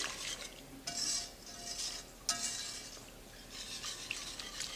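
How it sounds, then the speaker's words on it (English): Brown sugar being stirred into a sauce in a pot, with a spoon scraping and clinking against the pot in steady, uneven strokes that come close and fairly loud, and a faint sizzle underneath. "So you're just gonna make sure you get that brown sugar stirred in there real good"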